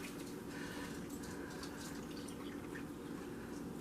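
Clam juice drained from opened clams pours into a cooking pot for chowder, a soft, steady trickle and splash of liquid heard close and faint, with no voices.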